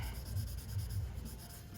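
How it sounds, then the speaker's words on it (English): A blending stump works over a graphite pencil drawing on paper, producing soft, close rubbing strokes in a steady back-and-forth rhythm with no voices. "And then I can blend a little bit more here."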